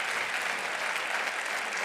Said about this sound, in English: Let's keep that applause going for all of these student athletes and their families.